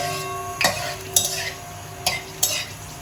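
Bay leaves and dried chillies stirred in hot mustard oil: four sharp spoon scrapes against the pan over a soft, steady sizzle, close up and with no talk.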